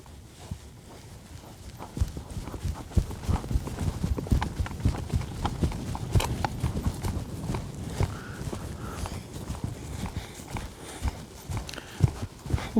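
A ridden horse lopes along, its hooves thudding in a steady rolling three-beat rhythm at close range, moderately loud with faint tack and ground noise beneath.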